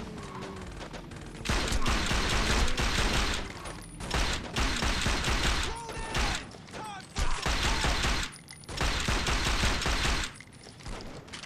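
Rapid bursts of powerful gunfire in the video game Saints Row 2, loud and dense, with repeated volleys broken by short pauses and mechanical clacks over several seconds.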